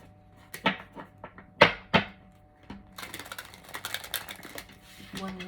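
Tarot cards are shuffled by hand, giving several sharp riffle bursts and then a rapid fluttering run of card snaps, close and crisp against a quiet background with a faint tonal hum.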